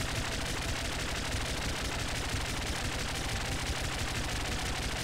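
Rapid, continuous gunfire from the top-down shooter video game Nuclear Throne on PC, a dense, loud stream of shots that fills the whole stretch without a break.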